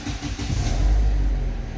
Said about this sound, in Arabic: كانت المكنه بتقعد تعلى وتوطى